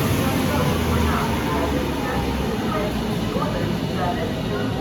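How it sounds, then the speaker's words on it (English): Northern train 331015, the 13:11 service from Manchester Airport to Manchester Piccadilly, pulls into the station with a steady, close, broadband roar of wheels and motors that stays loud and even throughout. "Arriving now is the 1311 Northern service from Manchester Airport to Manchester Piccadilly"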